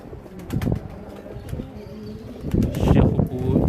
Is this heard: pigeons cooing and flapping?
yes